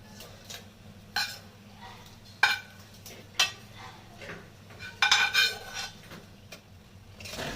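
Pieces of fish go into boiling gravy in a pan with eggplant, bringing several soft splashes and knocks over a low bubbling simmer. The sounds are close and fairly quiet, and faint voice sounds come and go in the background.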